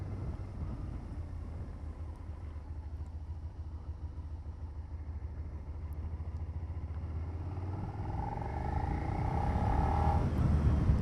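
Suzuki SV650X motorcycle riding along at low cruising speed, a steady low engine rumble with wind noise throughout, swelling slightly louder near the end.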